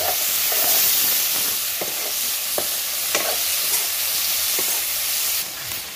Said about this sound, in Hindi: ये देखिए टमाटर डल गया, प्याज भूज गया, टमाटर डल गया।